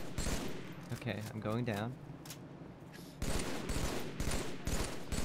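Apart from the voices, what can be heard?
gunfire in the video game Halo 3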